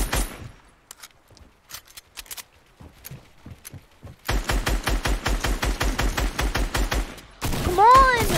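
Rapid bursts of assault rifle (SCAR) fire in a battle-royale style video game, a sparse scattering of shots giving way to a long, loud, steady volley of evenly spaced reports, followed by a ringing sweep.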